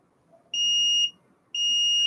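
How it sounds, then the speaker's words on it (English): Two identical electronic beeps from a UnifyDrive UT2 backup device, each a steady, shrill, half-second tone about a second apart in a quiet room. "One click back up, you can hear the two beeps."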